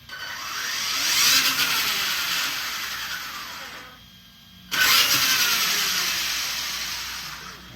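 A Traxxas E-Revo brushless 1:10 scale RC car powers up with a loud, high-pitched electric whine that holds, dips into a brief near-silence, then surges back just as strongly.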